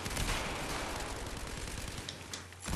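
Dense, continuous automatic gunfire from the video game Battlefield 4, loud and close, with rapid overlapping bursts and a brief dip near the end before the shooting resumes.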